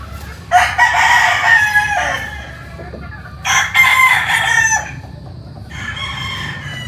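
A gamefowl breeding rooster on a farm in Tanauan, Batangas crows loudly and close by, twice in strong drawn-out calls, then gives a fainter third crow from another bird, over a low rumbling background.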